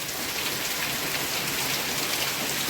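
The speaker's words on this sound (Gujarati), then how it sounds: "કલાક થયા વરસે હજી તો બંધ લેવાનું નામ નથી લેતો" Heavy monsoon rain pours steadily in Rajkot, a dense, unbroken hiss of drops drumming on surfaces close by, loud and constant throughout with no voices.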